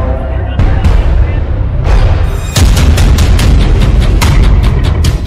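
Bombs and missiles exploding in air strikes on Yemen: loud booming blasts, a few spaced at first, then a dense run of sharp detonations in quick succession.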